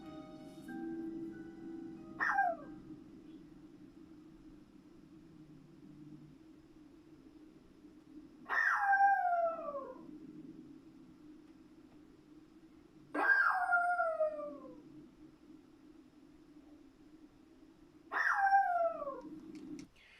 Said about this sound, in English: listen to how loud that dog is barking